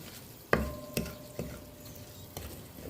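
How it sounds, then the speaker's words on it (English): Browning sugar in a pot for pork pelau is stirred, with a few distinct metallic spoon knocks against the pot over a low, steady sizzle, heard close up. "you don't want to burn your sugar, because your meal will taste burnt. I'll give this a stir."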